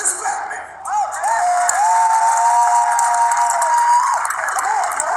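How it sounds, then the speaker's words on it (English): A debate audience gives sustained applause and cheering for a speaker's introduction, with a long high whoop held over the clapping and scattered shouts. "I want the same applause that you gave Prophet Noble Drew Ali"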